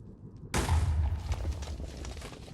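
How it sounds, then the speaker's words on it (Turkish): A TNT block detonates in Minecraft survival gameplay, a sudden loud broadband boom after a half-second of near silence, followed by a rumbling crackle that stays strong and slowly thins out over the next two seconds. "Hadi bakalım ilk TNT'yi patlattım arkadaşlar"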